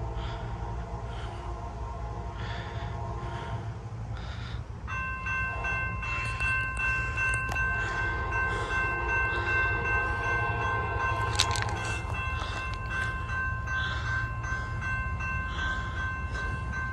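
A CSX freight train passes with a steady rumble of rolling railcars, then a locomotive horn blows a sustained multi-tone blast for several seconds, moderately distant.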